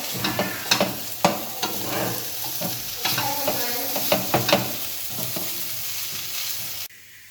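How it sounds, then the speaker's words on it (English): Chicken and onions sizzle steadily in a hot pot while a utensil scrapes and stirs in repeated strokes, then the sizzling cuts off near the end. "after frying the chicken with the onions"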